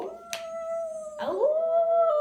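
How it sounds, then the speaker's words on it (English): Coyotes howl in a Halloween puppet show, a long wavering tonal howl rising and sliding with a sharp yip near the start and another burst midway, close and fairly loud with no talk over it. "The coyotes were howling."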